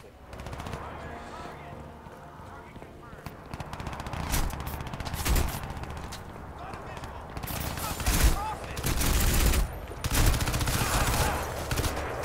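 Gunfire from a weapon in the shooter game Crysis 2 Remastered, with bursts of shots and loud impacts that cluster in several heavier volleys under a dense, busy battle mix, with no speech over it.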